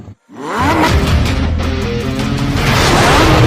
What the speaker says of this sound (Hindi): बाइक में मारते हैं सेल्फ, फर्स्ट क्लास बिल्कुल बाइक स्टार्ट हो गई।